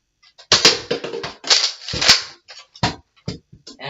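A Nerf toy gun fires a quick series of sharp clicks and snaps, loud and close, with brief pauses between bursts and no talking.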